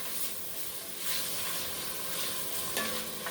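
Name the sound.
stirring salt and pepper seasoning in a frying pan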